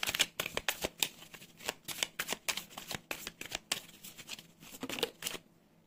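Tarot cards shuffled by hand for a three-card reading, a close series of quick riffling bursts and soft slaps with short pauses between, fading to quiet at the end.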